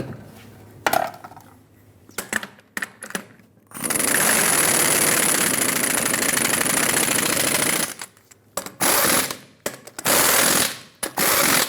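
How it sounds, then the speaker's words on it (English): Impact wrench or torque tool working the lug nuts on a 2003-2009 Dodge Ram 2500 wheel: a loud, sustained mechanical whir of about four seconds, then several short ratcheting bursts, close up with no talk. "we're going to torque these to 140 foot-pounds"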